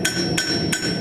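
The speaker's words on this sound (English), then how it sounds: "So I'm using the cross peen on the hammer." Cross peen hammer striking hot forged metal to add texture, three sharp ringing blows spaced about a third of a second apart, close and loud over a steady background hum.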